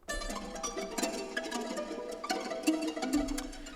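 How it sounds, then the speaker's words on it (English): An aleatoric string orchestra plays a scattered pizzicato-like phrase of quick plucked and tapped notes at irregular rhythm, quiet and busy, with no talking. "You may have noticed this sort of pizzicato-like sound."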